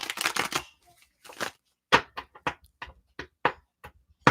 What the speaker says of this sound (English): I'm going to shuffle these cards for you